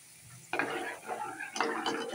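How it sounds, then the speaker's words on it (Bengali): A spoon scrapes and stirs through a pan of pomfret fish curry with aubergine, green chillies and turmeric. Quiet at first, then two close bursts of rough stirring with a light sizzle beneath. "লাড়া দিয়ে দেবো।"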